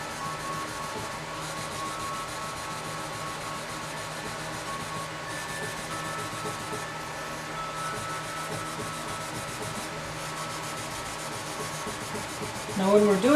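Steady, quiet rubbing and scrubbing as leveled guitar frets are polished, a continuous soft abrasive hiss with little variation, with a brief louder scrape at the very end.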